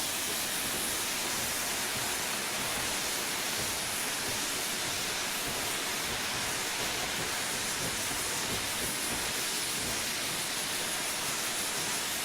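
A BR Black 5 steam locomotive on the Western Lines of Scotland in the Train Simulator 2015 game gives a steady, dense hiss and rumble that holds evenly throughout.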